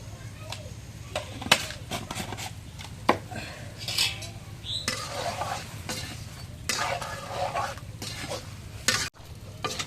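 Boiled pointed gourd fries in a pan with a steady sizzle, while a spatula scrapes and knocks against the metal at irregular moments and voices are heard in the background.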